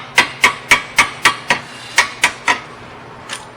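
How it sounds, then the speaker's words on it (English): Nine sharp hammer strikes drive a bushing into a Nissan Murano second-generation front control arm in a steady rhythm, followed by a pause and one lighter tap; close and loud, with no talking. "Grab your hammer."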